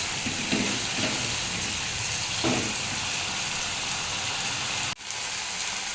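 Chili and ginger paste sautéing with cooked-down tomato in a pan for chana masala, a steady close sizzle and frying hiss with a few soft stirring scrapes and a sharp knock near the end.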